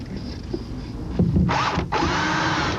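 A power drill drives 2.5-inch screws into a 2x4 during subfloor work, with two loud sustained whirring bursts separated by a short pause, following some quieter handling clatter.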